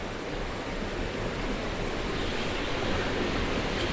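River Coe waterfall in Glencoe, Scotland, rushing water roaring as a dense, steady broadband wash with no breaks, close and fairly loud throughout.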